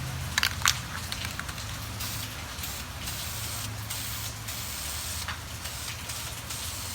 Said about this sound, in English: I'm just spraying.